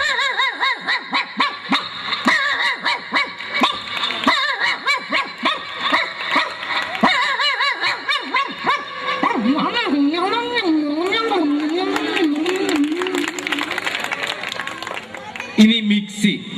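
A comedian on a Malayalam comedy stage voice-imitates a native street dog, his barks and wavering howls rising and falling loudly while the audience snickers and laughs.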